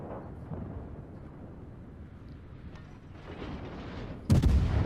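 Naval gunfire in World of Warships rumbles as a low, distant booming wash, ending in one sharper, louder blast near the close.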